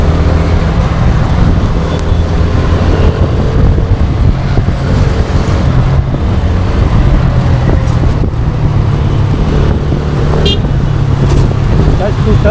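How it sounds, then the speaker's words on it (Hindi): Dense motor traffic on a Mumbai road, heard from a moving bike taxi as a loud, constant engine drone and road roar with occasional horn toots and someone talking over it. "टच टू टच सब गाड़ी चल रही है"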